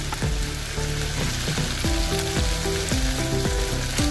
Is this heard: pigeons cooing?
no